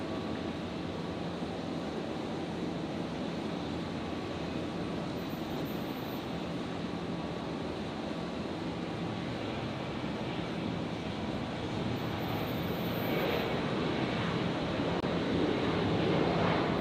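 A Virgin Boeing 737-800 retrofitted with Max winglets takes off from runway 01 right at Brisbane Airport at night, a steady broad jet roar that holds for the whole stretch and swells slightly toward the end.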